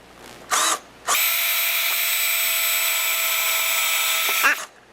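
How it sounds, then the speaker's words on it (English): Power drill boring a pilot hole into a house wall with lap siding, a short burst followed by a steady, loud whine for about three and a half seconds before it stops. "drill a pilot hole right here."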